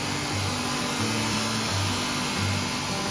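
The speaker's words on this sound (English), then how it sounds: "This is our edge sander." An edge sander in a wood production facility sands the sides of wooden boards, a loud steady mechanical whir with a fan roar and a low hum that pulses in regular cycles.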